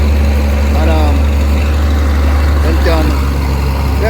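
A road grading machine works on Retreat Road in Upper Retreat, St. Thomas, its heavy diesel engine droning steadily and loudly up close while someone talks over it.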